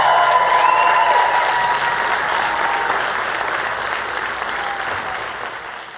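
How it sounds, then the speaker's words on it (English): A church congregation breaks into loud, sustained applause and cheering during a service, a dense wash of clapping that holds steady before slowly tapering off over several seconds. "Church family, would you cheer and greet Jeff and Ashley Stevens?"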